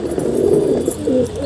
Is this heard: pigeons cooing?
yes